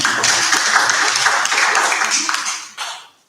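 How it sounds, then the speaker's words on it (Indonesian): A classroom of ninth-grade students claps together, loud, close and dense for about three seconds before it stops abruptly. "Tepuk tangan untuk kalian semua."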